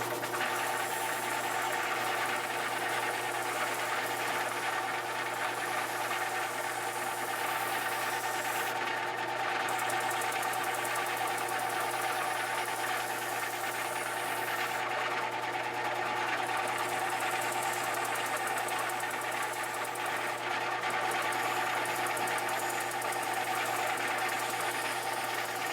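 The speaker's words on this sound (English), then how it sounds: "Just going to kiss that pencil line on the edge of the sanding disc." A disc sander shaping a guitar neck runs with a steady mechanical whir and constant hum, close and fairly loud, with brief hissing bursts now and then.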